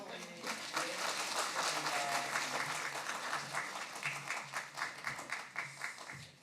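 Congregation applauding during a Sunday worship service at Hyangdong Church after a prayer of blessing, a dense sustained crowd clapping that builds quickly, holds steady, then thins into scattered separate claps near the end.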